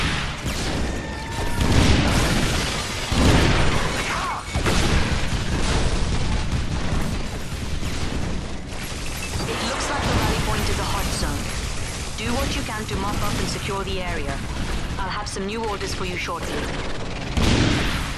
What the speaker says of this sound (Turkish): bunlara da top atıyorum böyle